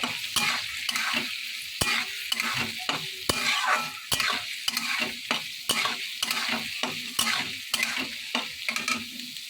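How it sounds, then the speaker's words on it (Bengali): Beans and green chilies sizzle in hot oil in a frying pan for fried rice while a utensil scrapes and stirs in quick irregular strokes, close and steady, with no talking. "কাঁচা লঙ্কার টুকরোগুলোও আমি দিয়ে দেবো। আবারও আমি নেড়ে দেবো।"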